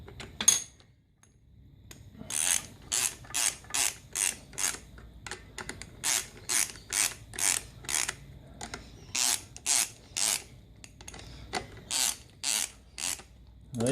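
Steady series of crisp ratchet clicks in evenly spaced bursts, close and clear after a short quiet start, as a ratchet turns bolts during a clutch rebuild.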